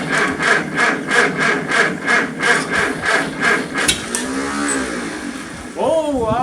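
A Farmall Super C tractor engine cranking over at minus 5F, a loud, close, rhythmic chug of the starter turning the cold engine about ten times before it stops, followed by a voice.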